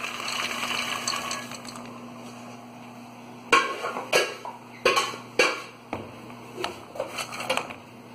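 Roasted peanuts being moved from one pan to another while making Brazilian pé de moleque with rapadura: a run of sharp, close clattering and scraping bursts breaks in over a steady low kitchen hum, becoming irregular toward the end.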